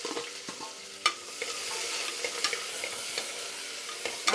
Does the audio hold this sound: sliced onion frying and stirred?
yes